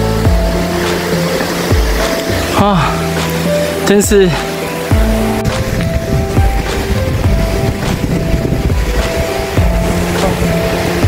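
Rushing water at Minghaishan East Creek Waterfall in Maolin, Kaohsiung, a steady broadband roar running through the whole stretch, with someone speaking briefly over it and a motorbike engine also audible.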